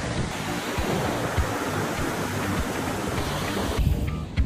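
Ocean surf washes onto a beach in a broad, steady roar mixed with wind buffeting the microphone, loud and continuous with no speech.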